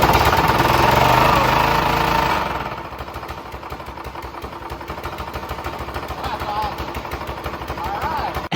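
A repaired snowblower engine runs close by, its loud steady mechanical chatter shifting partway through after a denser opening stretch, with no talk over it.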